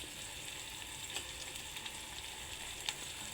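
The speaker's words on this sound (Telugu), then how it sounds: "ఆనియన్స్ తొందరగా వేగుతాయి." Onions frying in a pan with curry leaves give a steady, soft sizzle with a few faint pops and crackles, close by, with no voices.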